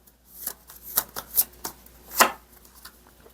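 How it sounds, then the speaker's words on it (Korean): Tarot cards shuffled and drawn during a reading, a run of soft papery riffles and flicks with several sharper slaps as cards are pulled, close and fairly quiet, with no talk. "조언 카드 한 장 뽑아볼게요"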